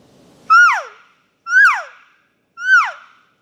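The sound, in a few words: elk cow call imitated with call tube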